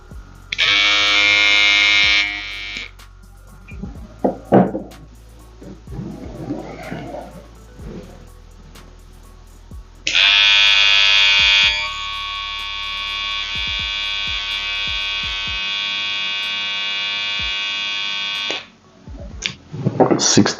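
A replica Babyliss electric hair trimmer buzzes loudly and steadily in two runs, a short one at the start and a longer one later, with someone talking in the gap between them.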